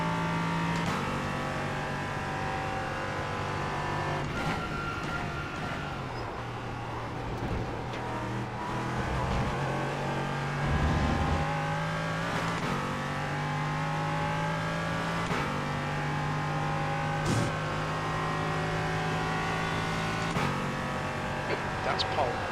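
A GT4 race car in the iRacing sim racing game, its engine droning and revving through shifting gears, steady and mid-loud, with someone talking over it throughout.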